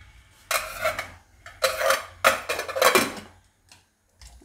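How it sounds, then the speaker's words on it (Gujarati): A pressure cooker lid is shut over a pot of Gujarati lilva (green pigeon pea) khichdi on the stove. Several loud metallic clanks and rattles come in close bursts, followed by a couple of faint taps. "હવે આપણે કુકરનું ઢાંકણું બંધ કરી દઉં"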